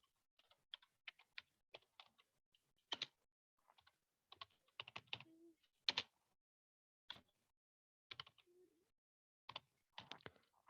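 Computer keyboard typing while an HTML form is filled in: short, irregular bursts of crisp keystrokes separated by pauses, close and fairly quiet, with no voices.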